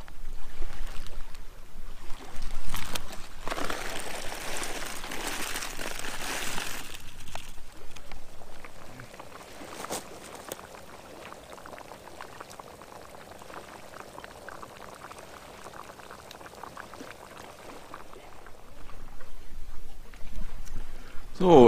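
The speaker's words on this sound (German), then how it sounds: "Das Wasser hat gekocht und jetzt kommt die Tüte rein." Boiled water is poured into a bag of spaghetti bolognese camping meal at a tent stop, with a loud gushing pour and bubbling early on before it quietens, and a voice speaks briefly.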